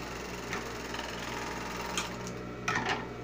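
A sewing machine runs steadily, stitching close along the fabric edge of a unicorn costume dress with a continuous, close whirring drone and faint rhythmic mechanical ticking throughout.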